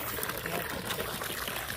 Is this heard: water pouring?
yes